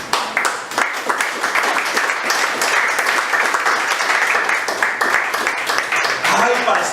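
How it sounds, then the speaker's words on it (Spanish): A church congregation claps and applauds together, producing a steady, full wash of many hands for several seconds with a voice faintly audible within it. "Que le da un aplauso al Señor."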